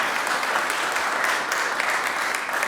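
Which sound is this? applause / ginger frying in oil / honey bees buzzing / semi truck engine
applause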